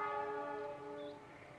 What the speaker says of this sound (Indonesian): sudah terdengar nih suara gemuruh mesinnya nih.